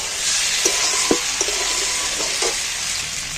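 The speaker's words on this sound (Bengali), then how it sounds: "যেইভাবে মাংস কষে সেইভাবে এটাকে শুধু কষিয়ে নেব" Egg and potato masala (egg and cauliflower curry) frying in a pan with a steady hiss, broken by several sharp scraping taps of a spatula as the mixture is stirred.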